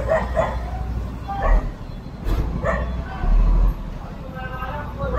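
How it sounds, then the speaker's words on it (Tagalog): Several dogs bark and yip in loud, repeated bursts along a cluttered street, interleaved with people talking nearby. "Ang dami nilang aso ah."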